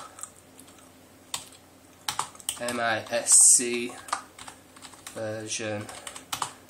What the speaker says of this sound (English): you have to excuse me with the typing, it's hard to type and record